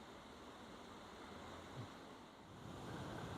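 Water rushes down a chute in a Victorian park, a faint, steady, broadband roar like distant surf that swells slightly near the end, with no voices.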